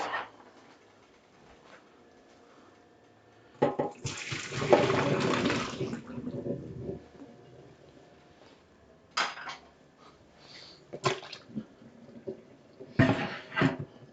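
Cooked chips tip into a metal colander with a rush of splashing water and clattering pot sounds, followed by intermittent metallic clanks and knocks of the pan, close by in a kitchen.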